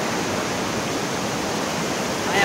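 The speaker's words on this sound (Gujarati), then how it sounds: "આ નીચે ત્રણ ચાર નાલા છે, એમાંથી પાણી એકદમ ખાસ જાય છે." Several streams below a hillside in Gir forest run fast toward a swollen Hiran river, heard as a continuous, even rush of flowing water without pause or voices.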